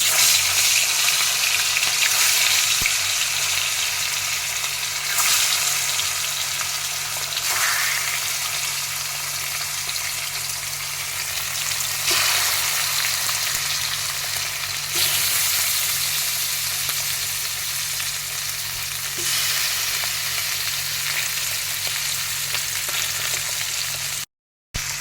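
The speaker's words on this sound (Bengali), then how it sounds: "কড়াইতে সর্ষের তেল দিয়ে দিলাম। এবার খুব সাবধানে মাছগুলো ভেজে নেব।" Magur fish frying in mustard oil in a wok, with a steady, close sizzle and crackle of hot oil that holds evenly for the whole stretch before cutting off at the end.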